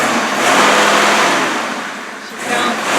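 A 1971 truck engine revs loudly and steadily while driving, fitted with a muffler that has holes in it, giving a raw, roaring tone that surges, dips slightly, then climbs again over three seconds.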